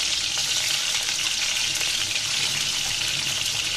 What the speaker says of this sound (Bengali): এবার এ পর্যায়ে আমি বেগুনগুলো দিয়ে দিলাম।